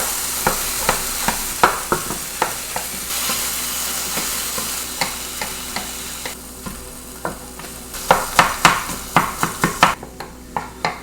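Firm tofu is broken up with a spoon in a sizzling frying pan, a steady hiss punctuated by many sharp, rhythmic spoon taps and scrapes that grow louder toward the end, with no talk.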